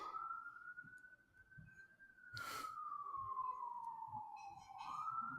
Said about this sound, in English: Sorry, this fucking siren.